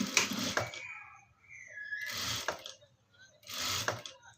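A sewing machine stitching along a folded fabric edge, three short bursts of rapid mechanical whirring separated by quiet pauses, close and fairly soft.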